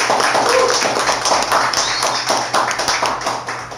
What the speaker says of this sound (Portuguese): Eu queria puxar uma salva de palmas pra Arpearia e pra Helena.